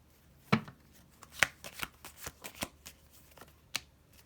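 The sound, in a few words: shuffling tarot cards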